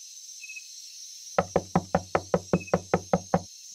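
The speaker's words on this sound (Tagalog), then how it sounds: "sunod-sunod na katok na naririnig ko mula sa main door ng bahay ni Joanne" Ten sharp knocks land in a steady, even rhythm on the main door of a house in the small hours. They are loud and close, with a quiet room hum before them and no voices.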